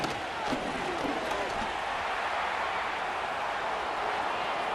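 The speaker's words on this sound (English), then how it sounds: "the crowd getting into it as we come up on a big third down" Stadium crowd noise in the football video game Madden 25, a Commanders versus Eagles NFC Championship playoff game: a dense, steady roar of fans building ahead of a big third down, filling the whole stretch with no break.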